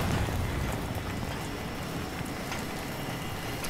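Steady rain falls in the video game Battlefield 3, a dense continuous hiss of drops with a low rumbling undertone that stays even and close throughout, with no voices.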